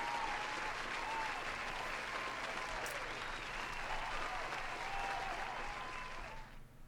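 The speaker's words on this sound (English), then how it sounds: "Here's another round of applause." Sustained applause from a live studio audience during a weekly gaming show, steady and dense throughout, fading at the end; no talking over it.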